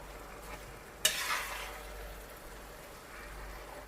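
Baingan bharta mixture stirred in a pan over a high flame, with a single sharp scrape and a brief sizzle near the start, then a low steady cooking hiss close by.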